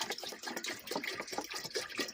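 Water pours from a bottle into a kettle in a quiet, close stream of uneven glugging splashes lasting a couple of seconds.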